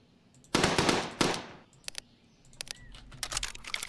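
Rifle gunfire in the WW2 Bunker Simulator video game: two sharp loud shots with short decaying tails, followed by lighter clicks and rattling bursts, alone with no talk.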